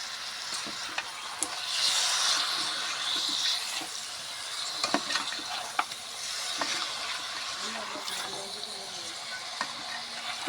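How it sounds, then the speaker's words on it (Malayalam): Beef being stirred and fried in a pan for a Kerala-style beef varattu, a moderate sizzle with scattered scrapes and clicks from stirring, fairly close. "ഇതാ ബീഫ് ഇട്ട് നന്നായി ഇളക്കി കൊടുക്കുക"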